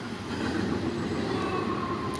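Train rolling past at steady, moderate volume, a continuous broadband rumble of wheels and rail noise filling the whole stretch with no talk.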